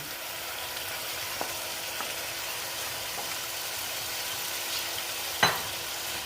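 Okra frying in a pan, without onion or garlic, as a steady soft sizzle that holds throughout, broken by a few faint scrapes and one sharper clatter of stirring near the end.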